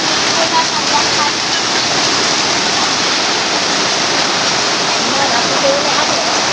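Heavy rain pours down in a steady, dense roar, loud and unbroken throughout with no pauses.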